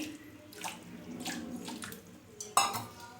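Water is splashed into a cooking vessel of dough while making spicy North Karnataka khara jamun. A soft pouring trickle and faint clinks of the pot sound close by, with a brighter splash near the end.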